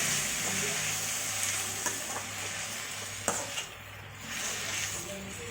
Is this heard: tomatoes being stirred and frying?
yes